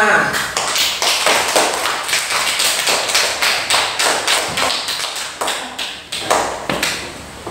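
Classroom group clapping together in a steady rhythmic beat, each clap sharp and distinct, repeating evenly at close range for several seconds.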